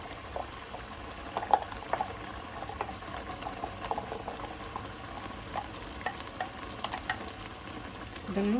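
Ground masala goes into a pot of Mangalorean chicken curry with water already in it, and a soft sizzle and bubbling follow with light stirring scrapes and small clinks, fairly quiet and steady.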